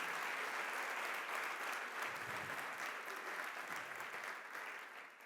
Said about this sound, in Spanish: Si le va a aplaudir, apláudale al rey.